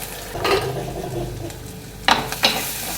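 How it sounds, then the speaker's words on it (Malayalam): Mustard seeds crackle and pop in hot oil with fenugreek in a home kitchen, a close sizzling bed broken by a few sharp pops and stirring clinks. "കടുക് കിടന്ന് പൊട്ടട്ടെ"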